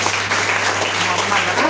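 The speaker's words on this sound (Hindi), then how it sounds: "स्मार्ट बिल्डिंग की संस्था के लिए जोरदार तालियां होना चाहिए" Steady, dense clapping from an audience at a large training session in Darbhanga, sustained evenly from start to finish with a faint murmur of voices underneath.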